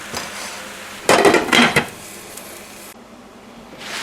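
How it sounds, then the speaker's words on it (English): A lid goes onto a pan of salted mushrooms with a brief close metallic clatter and rattle, then the pan settles into steady quiet hiss. "toss those a bit again to distribute the salt, then put a lid on it"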